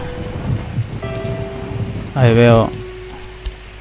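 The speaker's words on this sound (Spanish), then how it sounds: "Se escucha ruido de... de la lluvia caer." Steady hissing rain falls in the horror video game Dementium: The Ward, under low sustained tones, with a short burst of someone speaking partway through.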